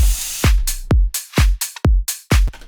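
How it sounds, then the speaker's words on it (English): A punchy electronic drum loop thumps with deep kicks and bright hits, a crash cymbal splashing in and then chopped off abruptly as a clap lands, tight rhythmic pattern, close and loud with no voices. "What I did is I added a crash cymbal,"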